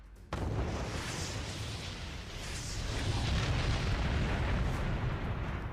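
Iranian ballistic missiles launch with a sudden loud blast, followed by a sustained, heavy roaring rumble that holds strong and slightly swells toward the end.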